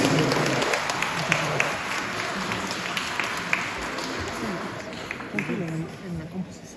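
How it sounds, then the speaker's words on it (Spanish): A wedding crowd claps steadily in sustained applause, the dense patter lasting several seconds with a few voices faintly audible underneath. "Le damos un fuerte aplauso"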